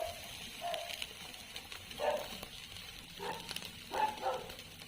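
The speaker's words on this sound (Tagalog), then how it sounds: "Maingay yung mga aso dito." Several short dog barks ring out at moderate distance, spaced irregularly over a faint outdoor background with no talking.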